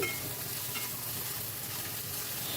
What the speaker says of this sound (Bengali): এবার ওই তেলে আমি দিয়ে দিচ্ছি 1/2 টেবিল চামচ মতো 5 ফোড়ন, আর দিয়ে দিচ্ছি 1 টেবিল চামচ আদা বাটা দিয়ে একটু নাড়াচাড়া করে নিচ্ছি